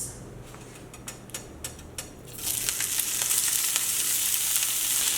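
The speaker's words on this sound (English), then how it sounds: "I have a pan heating up, and I'm gonna throw these in there with a little bit of oil and some Stubbs barbecue sauce" Vegan brisket pieces hit a hot pan with oil and Stubbs barbecue sauce, a few light ticks giving way to a loud, steady, close sizzle that continues to the end.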